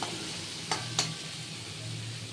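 Bitter gourd and pumpkin frying in a pan give a faint, steady sizzle, with two short clinks of the stirring utensil against the pan partway through and a soft low hum beneath.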